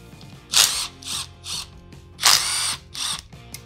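Small ratcheting hand tool or driver working the fasteners on a side plate of a 33-year-old 250R motorcycle engine case, with four or five short, loud whirring bursts in two groups and brief pauses between, with no talking.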